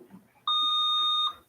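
A quiz competition buzzer gives one sharp, steady electronic tone lasting just under a second, loud and close after a moment of quiet room noise.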